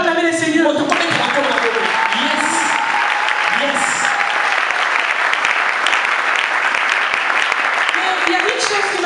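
A youth church congregation claps and cheers to acclaim the Lord, sustained loud applause with voices shouting over it and a speaker talking at the start.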